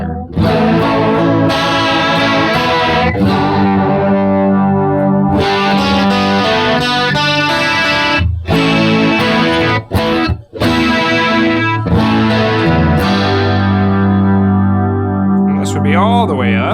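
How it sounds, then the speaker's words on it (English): Electric guitar played through distortion into a chorus pedal with the depth turned up, giving a thick, wavering, swirling tone; loud sustained chords and notes continue throughout with no talking. "So the depth is gonna be how much the chorus effect is on the signal"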